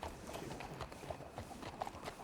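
Horse hooves clip-clop steadily at a walking pace in the Red Dead Redemption game world, moderately close and fairly quiet, with faint background noise.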